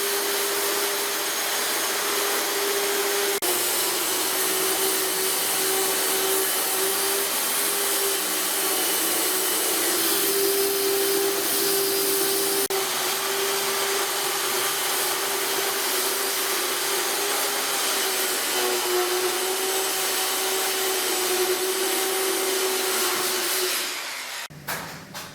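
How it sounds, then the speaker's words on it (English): A circular saw cutting 3/4 inch oak plywood, a continuous loud whining drone for over twenty seconds that winds down at the end. "I'm using my circular saw to roughly size this 3/4 inch oak plywood"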